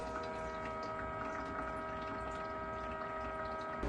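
A budget countertop ice maker runs with a steady low mechanical hum and a faint watery, pump-like wash under it, constant and quiet from start to end, with no voices.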